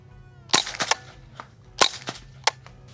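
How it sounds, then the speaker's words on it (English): A suppressed .22 rifle fires, giving sharp, fairly quiet snapping reports that come in two close clusters followed by a single later crack, with no talking over them. "now let's see how the 22 suppressed sounds"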